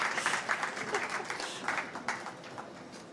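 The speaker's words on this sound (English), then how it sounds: "please give them a round of applause" Audience applause at a COP26 session on electric vehicle charging infrastructure, a steady wash of clapping over about three seconds, fairly even in level and somewhat distant.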